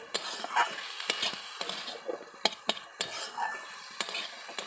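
Fried peanuts tipped into a pan and stirred in while making crispy vegetable chops, with sharp scraping clicks of a metal spoon against the pan at an uneven rhythm and a faint sizzle underneath, close and alone.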